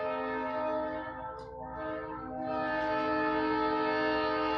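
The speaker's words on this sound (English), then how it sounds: "there's a train coming right through the middle of the store" A train rumbles past right beside a record store, a loud sustained horn blaring over the steady roar of the cars on the rails, swelling and easing as it goes by.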